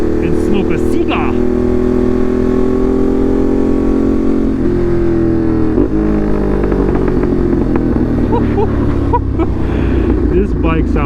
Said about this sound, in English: This bike sounds insane, man. Jeez. Hear that thing? I don't know if it's coming across on camera, but the SC Project is no joke.